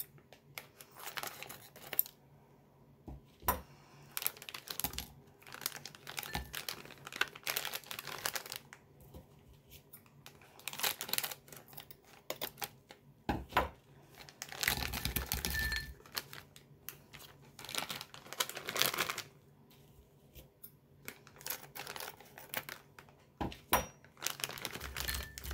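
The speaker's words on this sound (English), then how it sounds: "then I'm going to cut open the bags of candy." Plastic bags of candy are cut open and handled near a small candy jar: scattered rustling, crinkling and light clinking in irregular bursts, quiet and close, with no talking.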